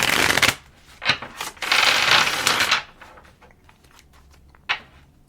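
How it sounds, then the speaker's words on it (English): A thick Omens tarot deck being riffle shuffled, bursts of rapid crisp card flutters, one long riffle in the middle followed by quieter taps and a final short riffle. "I've riffle shuffled today like this because the cards are thick enough and they don't bend as easily"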